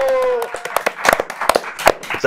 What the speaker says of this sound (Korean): 박수 한번 주셔야 되는 거 아닌가